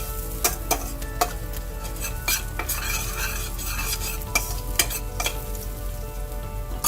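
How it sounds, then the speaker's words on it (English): Chopped cilantro and slit red chilies fry in hot oil in a pan, a steady sizzle broken by repeated sharp clicks and scrapes of a spoon stirring against the metal. "I'm going to add chopped cilantro, the slit red chilies, fry it for 2 minutes till the flavor comes out."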